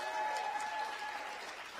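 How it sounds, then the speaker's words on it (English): Steady audience applause at an African American Living Legends awards night, honoring young people; dense, continuous clapping from a crowd, fairly even throughout with a slight fade toward the end. "So give a round of applause."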